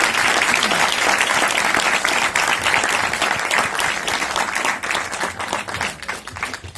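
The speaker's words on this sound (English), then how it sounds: "can we get a round of applause for a very fine filmmaker?" Audience at a Pan African Film Festival Q&A applauds steadily in a dense wash of clapping that thins toward the end.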